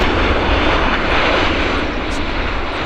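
An airplane taxiing at Vancouver Airport, a loud continuous broadband engine roar that holds steady throughout with no talking.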